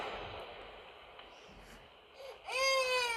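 A video game baby's wail breaks out near the end, loud and close, after a stretch of quiet hiss and faint whimpers, in a horror game.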